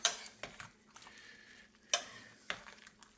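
A utensil stirs a rehydrated venison meal in a pot outdoors, giving a few soft scrapes and sharp clinks against the metal at irregular intervals, close and fairly quiet.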